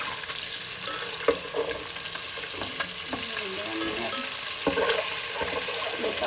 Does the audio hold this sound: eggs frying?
yes